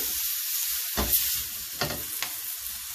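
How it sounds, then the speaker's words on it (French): Carrot and onion mirepoix sautés in a hot frying pan, a steady close sizzle with a few louder bursts as the vegetables are stirred and moved around, no voices. "on a versé dans la poêle la mirepoix, les carottes et les oignons"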